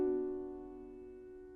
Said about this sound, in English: Now I will play the top voice stronger.